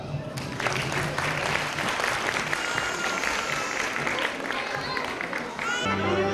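A crowd at a girls' Quran course graduation ceremony claps continuously, the applause mixed with faint background chatter and a brief tonal sound near the end.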